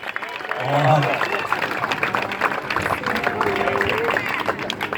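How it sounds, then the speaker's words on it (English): An outdoor crowd at the Eddie Aikau big-wave surf contest at Waimea Bay, Hawaii, claps and cheers for surfboard shaper Dick Brewer, a loud, ragged burst of applause with shouted whoops and voices talking over it. "How about a big round of applause for Dick Brewer?"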